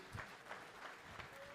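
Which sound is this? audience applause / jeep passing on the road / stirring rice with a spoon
audience applause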